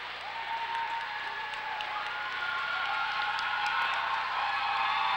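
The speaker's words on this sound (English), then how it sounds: "receive a hand from the crowd for the final time here in the gym" Crowd applauding in a high school basketball gym, sustained clapping from the stands that builds slightly in loudness, with a low hum of crowd noise beneath.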